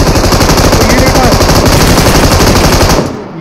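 Continuous loud machine-gun fire in the PUBG Mobile video game, a rapid, unbroken stream of shots for about three seconds before cutting off abruptly.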